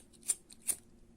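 Two crisp snips of scissors cutting crochet thread, evenly spaced and close, with faint background hum between them.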